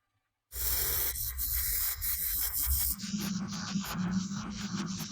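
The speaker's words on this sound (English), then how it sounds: "he directly sprays the interior floor pan with a black base coat" Black base coat sprayed onto the interior floor pan of a VW Golf MK5, a close, steady hissing spray that starts abruptly and continues for several seconds, its tone shifting partway through.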